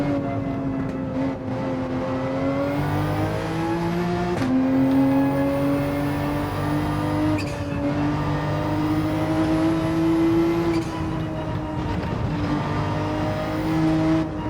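A race car engine in a racing video game on the Deep Forest Switzerland track drones loud and steady, climbing in pitch as it revs, with brief dips at gear changes.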